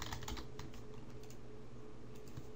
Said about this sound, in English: I'm gonna type in dash